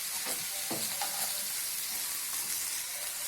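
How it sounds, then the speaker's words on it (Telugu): Cooked chicken with onions and turmeric frying in a pan for Telangana-style chicken fry, a steady close sizzle with a few brief stirring scrapes near the start. "తర్వాత మనం ఉడికించి పక్కన పెట్టిన చికెన్ని అందులో యాడ్ చేసుకోవాలి."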